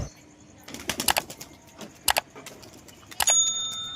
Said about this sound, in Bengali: আর উপরেও কিছু কবুতর উঠছে